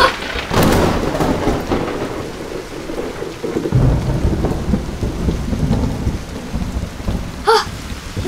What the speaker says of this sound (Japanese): さっきまで雷だったな。